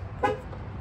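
A 2023 Chevrolet Silverado LT 2.7L crew cab gives one short horn chirp as it is locked with the key fob, a brief toot over low outdoor rumble.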